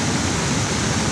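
The flooded Sathrangavu river at Pulappetta, Palghat, Kerala in 2020 rushes near a bridge, a loud, steady roar of churning water filling the whole moment with no voices.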